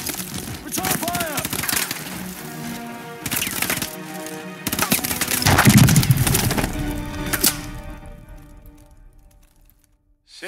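Call of Duty Advanced Warfare battle in New Baghdad, Iraq, 2061: loud, close bursts of automatic gunfire and sharp cracks come in waves, with voices under them, then the shooting fades to near quiet.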